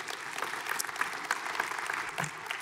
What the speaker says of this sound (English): You guys can go ahead and give Joe Tips a round of applause.